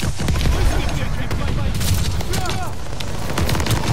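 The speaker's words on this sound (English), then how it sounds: "He's got a grenade launcher." Grenade launcher fire and explosions in Call of Duty Vanguard, a dense, loud barrage of booms and blasts rolling continuously with gunfire crackle and voices talking over the chaos.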